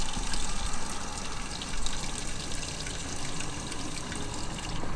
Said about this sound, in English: A bit of water in it so we can have a little bit of water for the chemical to dilute with.